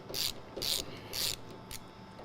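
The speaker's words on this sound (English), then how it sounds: "Now we can start dropping the skid plate from the bottom side of the tank. So these are just going to be 13 millimeters all the way around here." A ratchet spins off 13 mm bolts holding the fuel tank skid plate under a 2001-10 GM Duramax 6.6L pickup, four quick bursts of close, crisp clicking separated by short pauses.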